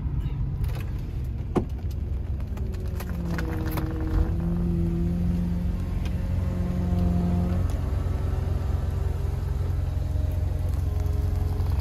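A 1993 Oldsmobile Cutlass Supreme convertible power top runs steadily with an electric motor whine and shifting tones, with a few mechanical clunks and knocks along the way, heard up close and alone.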